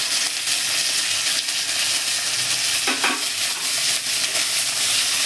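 Chopped cabbage goes into a hot frying pan for a veg patties filling, making a loud, steady sizzle with brief scraping stirs.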